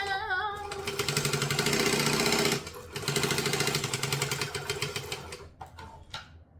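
A sewing machine runs steadily, stitching around gusset pieces of a troll toy, with a brief pause midway before the motor starts again and winds down near the end.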